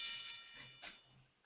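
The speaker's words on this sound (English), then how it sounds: "The boxing bell." A faint, brief boxing bell sound effect rings with a metallic ding that decays, followed by a second softer strike.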